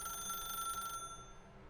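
A telephone rings inside The Stanley Parable video game, a bright bell-like ring that holds steady for about a second and then cuts off, leaving a quieter tail with no talk over it.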